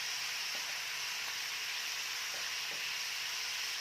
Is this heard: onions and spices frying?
yes